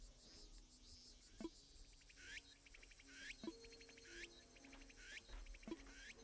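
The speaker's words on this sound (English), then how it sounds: "they're like all these cicadas." Cicadas and insects trill continuously in Animal Crossing: New Horizons, with repeated rising chirps and soft buzzing at a moderate distance and no voices.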